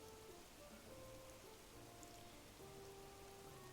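Steady rain in the video game Animal Crossing: New Horizons, a soft continuous hiss of drops on surfaces with faint tonal game music running quietly underneath.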